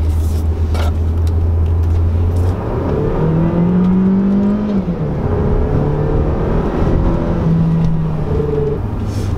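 A car engine revs in sports mode, climbing in several loud rising pulls that hold and drop back, heard from inside the car over road noise.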